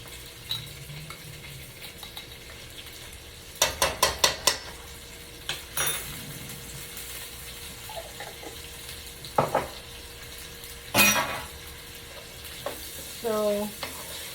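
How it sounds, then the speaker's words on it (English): Potatoes and cabbage sautéing with garlic in a cast iron skillet on a stovetop, a soft steady sizzle under clusters of sharp utensil scrapes and pan clanks that recur through the stir-fry. "So I'm doing potatoes and cabbage, a simple way, sauteing on the stove top."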